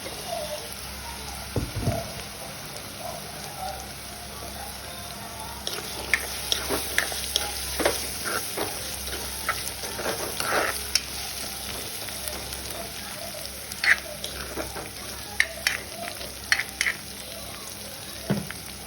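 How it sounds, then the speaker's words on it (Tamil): Chopped potatoes frying in hot oil in a pan, a continuous sizzle with repeated scraping and clattering stirs of a spoon, close and unbroken by speech. "வெட்டி வச்சுருக்கிற உருளைக்கிழங்கையும் போட்டுக்கொள்வோம்"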